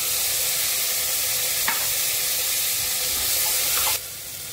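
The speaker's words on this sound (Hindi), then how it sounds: "इसे हम भून लेंगे। प्याज का कलर ब्राउन होना चाहिए" Onions being browned in a pan for lauki chana dal, a dense continuous sizzle with one or two faint stirring scrapes, close, cutting off sharply near the end.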